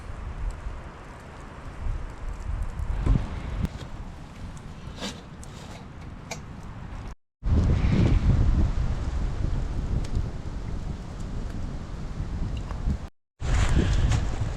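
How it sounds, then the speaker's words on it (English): Strong wind gusting around an evening campfire, a steady loud rushing and buffeting on the microphone that runs almost without a break, dropping out briefly twice. "The wind has cut down a lot."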